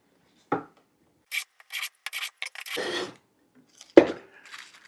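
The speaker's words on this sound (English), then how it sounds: "let's do a couple of passes with the Stanley number 4" A Stanley No. 4 hand plane is pushed over pine held in a vise: short scraping and shaving strokes in quick succession, close and fairly loud, followed by a sharp knock and a soft rustle.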